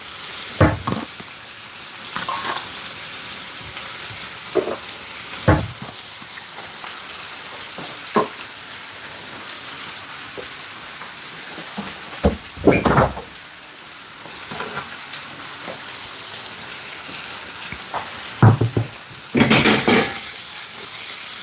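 Pumpkin cooks down in a pot for a Jamaican steamed fish dish, giving a steady close sizzle and hiss, broken by scattered clanks and scrapes of stirring.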